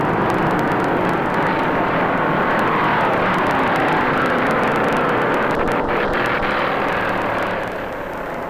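Stock cars race flat out at about 180 mph on the Daytona 500 backstretch, a continuous loud, rough engine roar across the whole stretch that fades slightly at the end.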